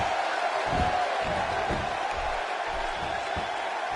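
Distant arena crowd noise from the WWE 2K16 wrestling video game, a steady roar of cheering with faint whoops at a Dallas, Texas show, soft and continuous in the background.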